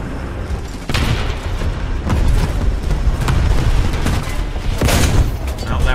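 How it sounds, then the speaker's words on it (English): A Pvkv III tank cannon in the War Thunder video game fires in heavy booming shots at an enemy turret, several loud blasts over constant rumbling battle noise. "Next shot into his turret."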